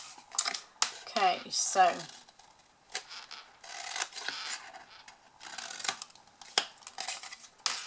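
Scissors snip paper tabs from the corners of a folded craft box, giving a few quick crisp cuts and rustles, while a voice speaks briefly.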